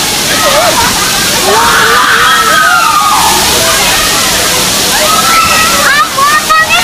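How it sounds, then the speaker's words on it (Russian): Water fills a fountain bowl overhead and pours out like rain, splashing steadily and sloshing down close by in a park in Korea while excited voices shout and chatter over it throughout. "сверху чаша тоже наполняется водой и вытекает, устраивая дождь"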